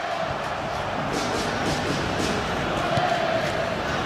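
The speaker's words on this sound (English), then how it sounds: "that's woken up the Indonesian fans here in the crowd" Stadium crowd noise from a simulated football match in the eFootball game, a World Cup final between Brazil and Indonesia, with Indonesian fans roused; a steady, dense roar of cheering holds throughout with no clear pauses.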